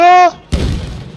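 A heavy artillery shell blast in the Battlefield 1 shooter: one deep, loud boom that breaks in after a short tone and a gap, then rumbles and fades over a second.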